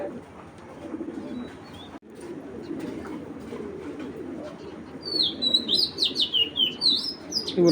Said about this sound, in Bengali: রবিডের বেজি কবুতর এগুলা